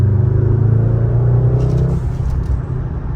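A nearby Honda car engine rumbles with a steady low drone that drops off after about two seconds, leaving a rougher idle.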